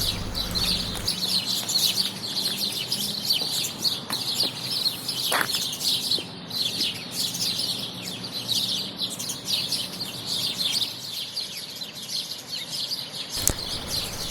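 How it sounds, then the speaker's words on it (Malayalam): Many birds chirp and twitter steadily outdoors around a hotel in Switzerland, a dense high-pitched chorus with the odd cluck below it. "ഹോട്ടൽ പരിസരത്ത് നല്ല കിളികളുടെയൊക്കെ ശബ്ദങ്ങളുണ്ട്."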